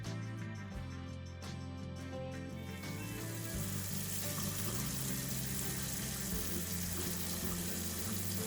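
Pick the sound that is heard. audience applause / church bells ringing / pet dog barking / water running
water running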